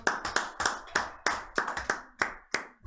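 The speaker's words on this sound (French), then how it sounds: "Pourquoi vous applaudissez?" Hands clap for Hicham on a French talk show: about ten separate, sharp claps in an uneven rhythm, close and fairly loud, with short gaps of quiet between them.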